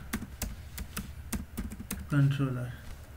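Several sharp key clicks from a computer keyboard, sounding in an uneven rhythm close by, then a voice speaking over the last of the typing.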